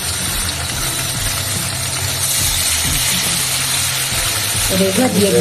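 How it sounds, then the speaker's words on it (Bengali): Pieces of rohu fish coated in rice flour fry in hot oil in a pan, giving a steady, loud sizzle throughout with a faint low hum underneath. "এটা আমি আজকে রুই মাছ ভাজবো"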